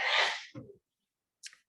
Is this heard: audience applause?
no